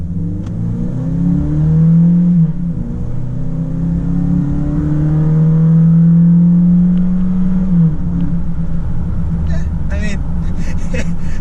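A 2020 Toyota Tacoma with its base 4-cylinder engine and automatic transmission accelerates hard, the engine note rising and dropping as it shifts through gears, loud and close, with someone talking briefly near the end.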